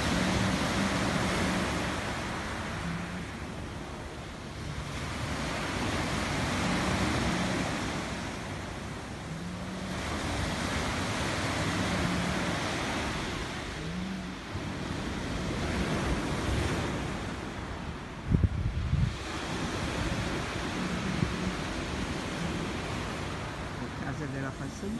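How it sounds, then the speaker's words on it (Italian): Sea waves surge and break along the Camogli seafront promenade under cloudy skies, with steady wind rushing across the microphone; the surf swells and recedes in slow, loud cycles, and a brief sharper knock comes near the end. "E di nuovo il mare."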